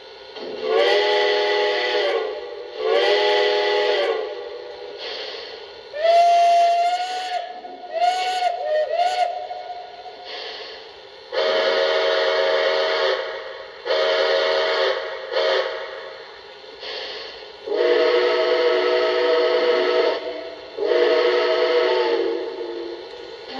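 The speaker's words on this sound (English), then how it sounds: "let's run through all 5 whistles that's offered on this engine" Loud model train steam whistles from a Lionel Long Island Rail Road Camelback locomotive blow in a series of separate blasts, each held for a second or two, some wavering in pitch, with short hissing gaps between.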